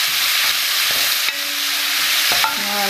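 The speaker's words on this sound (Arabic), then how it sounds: "هذيك الزيت اللي قليت فيها نجي نقلي فيها البصل ديالي" Onion and garlic frying in hot oil for a fennel and olive tajine, a loud, dense, close sizzle hissing steadily with a couple of brief stirring clinks, no voices.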